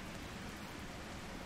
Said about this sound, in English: We're getting rain.